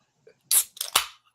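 A beer can popped open: a sharp hiss-click followed by two quick fizzing snaps, close and brief in an otherwise quiet room.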